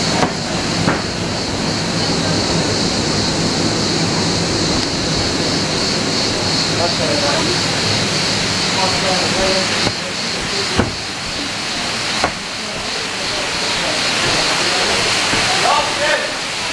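Steady roar of a waterfall at the Ulupınar Şelale restaurant, loud and continuous throughout, with people talking over it and a few sharp knocks.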